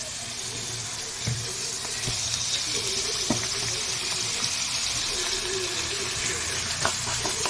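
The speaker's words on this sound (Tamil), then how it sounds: "தேங்காயும் சின்ன வெங்காயத்தையும் நல்லா இந்த மாதிரி வறுத்து எடுத்துக்கலாம்." Small shallots and grated coconut frying together in hot oil for a meal maker and potato kurma, a soft steady sizzle with occasional stirring clicks, fairly quiet, no talk.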